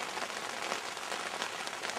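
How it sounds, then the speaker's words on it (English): Steady rain falling at night in Kangerlussuaq, Greenland, an even, close hiss of drops on a surface with no voices. "though it's raining."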